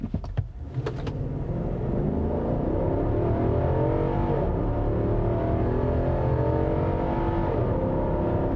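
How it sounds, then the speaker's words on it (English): A couple of sharp clicks, then the V8 engine of a 2021 Nissan Armada or 2021 Toyota Land Cruiser roars as it accelerates at full throttle, its deep rising rumble heard from inside the vehicle. "Love the sound of this V8."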